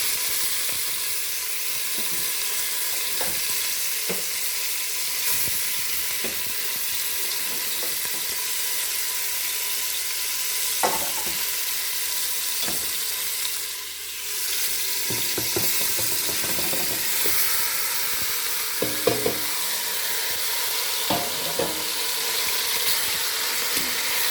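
Mutton, goat meat for a curry, searing in hot oil in a pot, a constant loud hiss broken by occasional spatter pops and stirring clunks, with a brief dip midway and no talk.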